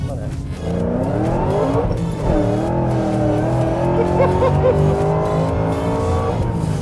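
An 870 hp Ford Mustang GT500, a supercharged muscle car, accelerates hard and loud with a rising engine note that drops at a gear shift and climbs again, while voices talk over it.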